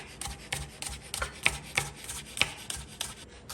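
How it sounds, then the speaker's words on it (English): A knife chops scallions on a cutting board in a steady run of crisp, evenly spaced taps, about three or four per second, close and clear with no talking. "We'll just chop up the scallions."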